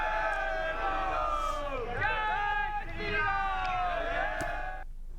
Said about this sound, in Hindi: इस यात्रा के दौरान खासा भीड़ नैनीताल की सड़कों पर उमड़ी रही।